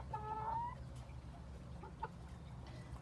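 Backyard chickens give a short burst of clucking and a drawn-out call near the start, then a few faint clucks and scratching noises later, with steady low background hum and no one talking.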